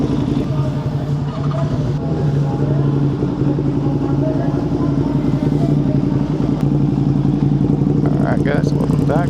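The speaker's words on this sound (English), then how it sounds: "Riding my buddy's 2023 Panigale V2." A 2023 Ducati Panigale V2 fitted with a Spark full exhaust, heard on the move as a loud, steady engine drone with a constant low rumble and little change in pitch throughout.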